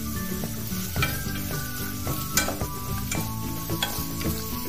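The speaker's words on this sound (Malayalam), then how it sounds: "അതുകൊണ്ട് ഇത് രണ്ടും കൂടെ ഇട്ടൊന്ന് വരട്ടിയെടുക്കാം" Carrots and beans sautéing in a pan for chicken soup, a loud constant sizzle punctuated by repeated scraping and tapping stirs, close up with no one speaking.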